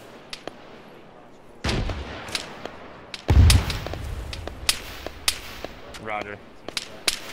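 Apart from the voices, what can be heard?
incoming gunfire from the southwest in the video game Arma 3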